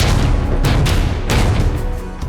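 A loud, continuous roaring rumble with repeated heavy booms as Kalibr cruise missiles launch from warships in the Black Sea, thundering without pause.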